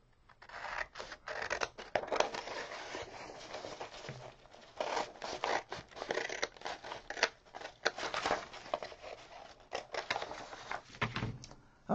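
Scissors snip through a paper square being shaped for a peony paper flower, giving a steady run of close, crisp cuts and rustling paper with short pauses.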